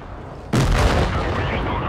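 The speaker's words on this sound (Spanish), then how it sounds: "Me falló el disparo, mira" A tank cannon shot in World of Tanks Blitz, a sudden loud blast after a quieter lead-in, followed by a sustained rumbling boom that fades slowly.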